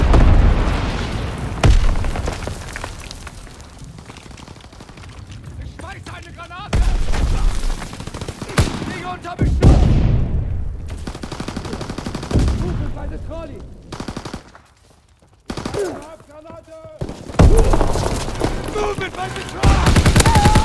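A Call of Duty WWII strafing run rips through a battlefield: long bursts of machine-gun fire, heavy explosions and booming impacts come in waves with short lulls, and shouted voices sit under the chaos.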